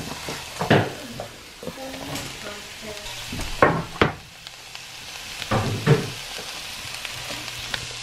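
Hotdog pieces in spaghetti sauce sizzle in a pan while a utensil scrapes and stirs in a few loud strokes, the frying hiss steady beneath the clanks.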